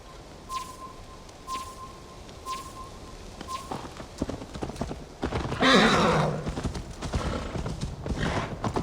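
Hoofbeats of a horse in Assassin's Creed Valhalla, steady clip-clop footfalls in open country with a faint tone early on, growing busier and louder midway as the ride picks up, with a bird call in the background.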